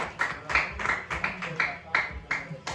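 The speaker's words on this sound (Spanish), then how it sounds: "Démosle un fuerte aplauso" A church congregation claps in a steady rhythm, with evenly spaced claps about twice a second at moderate volume and voices mixed in beneath.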